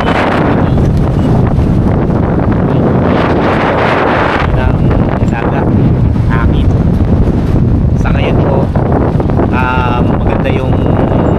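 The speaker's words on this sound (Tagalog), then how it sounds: "Lakas ng hangin." Loud, constant typhoon wind near the sea buffets the microphone in a dense low roar, with faint voices and a brief chirping sound underneath.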